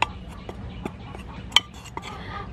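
Crispy flour being mixed with salt and black pepper in a bowl: sparse metallic clinks and scrapes of a utensil against the dish, a few sharper taps standing out over a quiet background.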